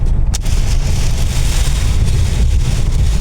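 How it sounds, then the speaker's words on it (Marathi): Heavy rain pours down in a constant dense roar during a trip to Akkalkot, loud and close, mixed with low wind buffeting the microphone and no voices. "पाऊस चालूच आहे अजून"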